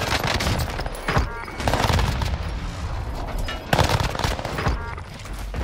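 Rapid bursts of automatic gunfire crack out in a shooter video game, several loud volleys with sharp onsets and short pauses between them, close and dominant.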